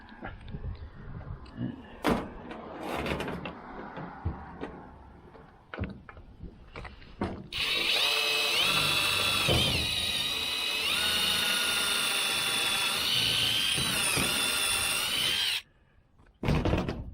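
A steady, loud power drill whir runs for several seconds after some scattered clicks and knocks, then stops abruptly before a brief clatter, while trimming pallet racking in a garage build.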